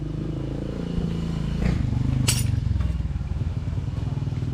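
A motorcycle engine idles close by with a low, throbbing pulse, briefly swelling louder midway before settling back into a steady rhythmic putter.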